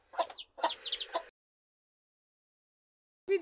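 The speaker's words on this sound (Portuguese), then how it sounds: "nasceram 2 pintinhos aqui em casa" A hen at home clucking near newly hatched chicks, a few close, soft clucks in quick succession, then a pause and one more cluck.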